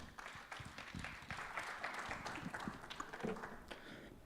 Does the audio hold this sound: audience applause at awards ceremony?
yes